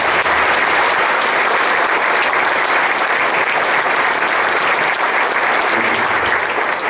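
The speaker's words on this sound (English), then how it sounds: "So big round of applause please for my father." An audience at a wind ensemble concert applauds, a dense and steady wash of clapping that stays loud and even from start to finish.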